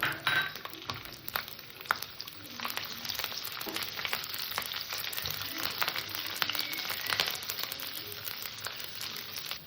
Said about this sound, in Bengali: তেলটা গরম হয়ে গেছে আমি বেশি করে কটা রসুন তেলের পরে দিয়ে দিলাম